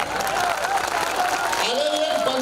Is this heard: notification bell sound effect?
no